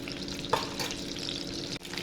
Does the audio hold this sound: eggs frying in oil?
yes